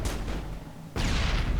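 Two heavy booming shots from a Mass Effect video game firefight, the second sharper and louder, with dense blasts in the background.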